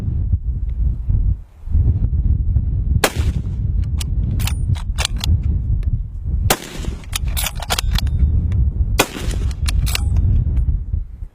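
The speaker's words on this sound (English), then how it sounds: "this is a heavier rifle, 26-inch barrel with the muzzle brake" Heavy rifle with a 26-inch barrel and muzzle brake fires several loud, sharp shots at uneven intervals, with crackling reports and clatter among steady outdoor background noise.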